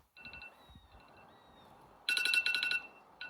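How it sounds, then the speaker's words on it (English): A kitchen timer alarm goes off during work on ageing chrome bass parts, giving loud, rapid electronic beeps in two bursts and then starting again, after a quieter stretch with a faint warbling tone under low background noise. "that's my timer, sorry about that."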